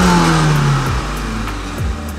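A video-game car engine runs loud and steady, its pitch shifting down through a couple of gear-like steps and then settling into a continuous mechanical drone with no talking.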